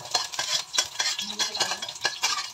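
Garlic and ginger stirred and fried in a pan, a utensil scraping in quick rhythmic strokes over a continuous soft sizzle, close and moderately loud with no talking.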